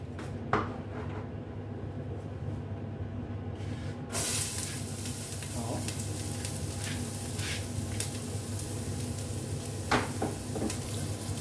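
Ginger sizzles as it fries in hot oil in a pan while a tomato coconut sauce is being started, a steady soft hiss that rises a little after a clatter, with occasional utensil clicks over it.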